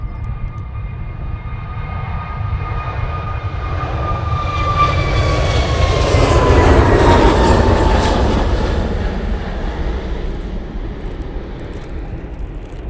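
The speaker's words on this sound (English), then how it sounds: "Jet2 now on the roll. Going off to Madeira using A321neo." A Jet2 Airbus A321neo airliner takes off from Manchester Airport bound for Madeira, its engine roar building to a loud broad peak midway and then slowly fading, with no talk.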